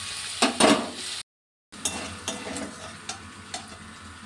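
Tomatoes fry in a pan for a Bengali dish with sesame and chilli paste, a close sizzle broken by utensil scrapes and light clinks, with a brief silent gap partway through.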